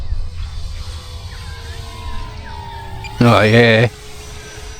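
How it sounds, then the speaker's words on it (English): An E-flite 1.4m Twin Otter RC plane makes a low-speed pass, its twin electric motors a faint, smooth whine that slowly drops in pitch as it flies by, before someone speaks briefly and loudly nearby. "Hope you can hear that, the sound of this plane, because it sounds beautiful"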